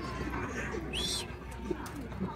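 A racing pigeon arriving home after a 111 km training flight gives soft, brief coos over quiet background noise.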